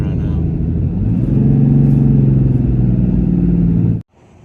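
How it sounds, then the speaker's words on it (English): Hotshot pickup hauling about 17,000 pounds up hills, its engine straining in a loud, steady low drone and rumble that swells in the middle and cuts off abruptly near the end, with someone talking over it. "man, my truck's struggling right"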